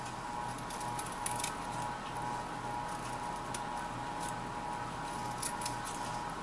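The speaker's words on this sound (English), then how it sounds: "I'm basically cutting off the folded edges." Scissors snipping through the folded edges of layered fabric for a rosette blossom, a run of soft, crisp cutting sounds at an uneven pace over a steady low background.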